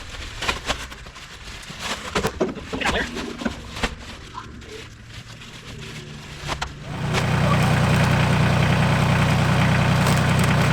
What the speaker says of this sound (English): Tractor ride for after work done.